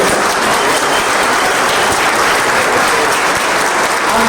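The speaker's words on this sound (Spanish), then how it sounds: "un aplauso gigantesco para Esteban" Loud, dense applause from a book-festival audience at an interview event, continuous clapping filling the whole stretch without any talk.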